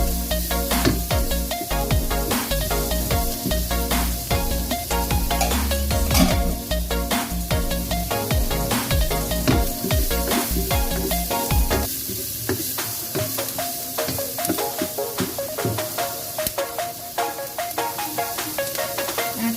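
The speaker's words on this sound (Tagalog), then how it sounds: "Isigisahin ko muna hanggang maging brown siya lang konti." Pork liempo and aromatics sautéing in a pan until browned for a home-cooked caldereta, a steady close sizzle with stirring and utensil scrapes throughout, loud and continuous.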